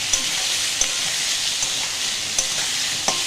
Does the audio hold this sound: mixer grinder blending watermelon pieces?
no